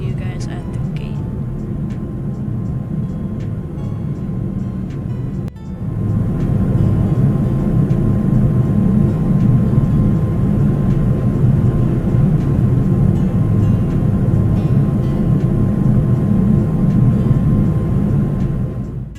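An airliner on a Tokyo to New York JFK flight taxis to the gate after landing, a steady loud cabin rumble and engine drone that jumps up after a brief dip, continuing without pause.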